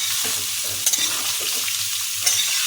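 Onions fry in a pan for shredded chicken while being stirred, a dense continuous sizzle with soft scraping strokes and a couple of sharper clinks, close and loud, no voices.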